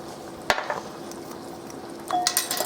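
A poppy seed dressing with apple cider vinegar is stirred in a bowl, with a couple of sharp utensil clinks and light scraping, quiet and close, without speech.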